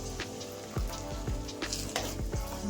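Masala being stirred with thick curd in a hot pan for a brinjal curry, a loud close sizzle with repeated scraping strokes of the spoon roughly every half second.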